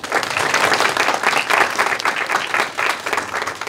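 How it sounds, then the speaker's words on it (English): An audience at a National Technical Honor Society induction ceremony applauds steadily, dense clapping from many hands filling the room at a loud, even level. "I would like to give you all a round of applause for all that you do"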